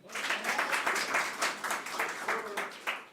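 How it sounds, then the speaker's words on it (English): Audience applause at a commerce graduation ceremony for a graduate receiving a cum laude qualification, a short burst of dense hall clapping with rhythmic pulses, moderately distant. "You're going to have to give Naresh an additional round of applause"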